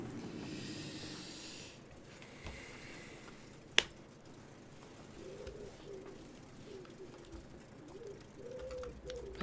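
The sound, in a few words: pigeon cooing loudly nearby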